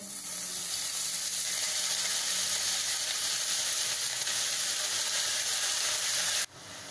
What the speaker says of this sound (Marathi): या कढईमध्ये 1 टीस्पून तेल गरम केलंय मी। तर आता हा पालक घालू आपण याच्यामध्ये।